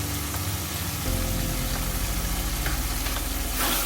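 Ground paste of cashew, poppy seed and melon seed frying in a chicken gravy, a steady close, loud sizzle with bubbling and stirring throughout, no voices.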